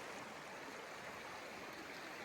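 Shallow creek in Oregon running low after a dry spell, a steady, even rush and trickle of water that stays constant throughout with no voices.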